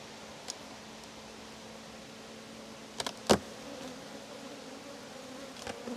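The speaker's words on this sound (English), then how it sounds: "this box which is so full of bees" Honey bees hum in an open, overfull hive box, a steady faint drone that runs throughout, broken by a few sharp knocks and a brief rustling clatter near the middle.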